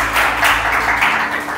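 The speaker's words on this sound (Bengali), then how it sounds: "সো তার জন্য একটা হাততালি চাচ্ছি আমি" Audience at an IEEE student branch event claps in a brief, dense burst of applause, loud and continuous, with no talk over it.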